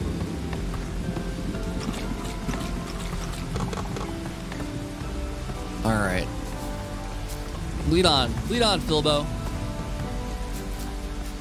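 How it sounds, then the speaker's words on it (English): Steady rain falls in the Bugsnax video game, a constant hiss and patter under someone talking and game character voices and effects that rise over it in bursts. "It's raining here too"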